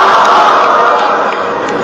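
A crowd of people at a university program in Gombe State shouting a takbir together, a loud, sustained mass of voices that holds steady and tapers slightly toward the end.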